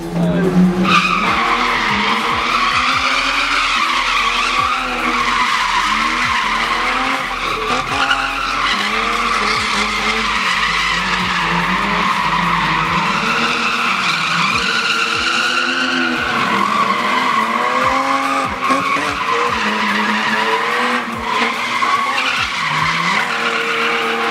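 A car spins donuts while drifting, tires squealing in long wavering howls with the engine straining underneath, loud and close for over twenty seconds with little let-up.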